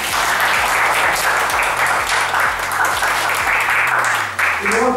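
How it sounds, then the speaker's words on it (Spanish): Audience applause at a comedy contest event, sustained crowd clapping over a loud low rhythmic music bed, the claps blending into a continuous wash. "Un aplauso para él."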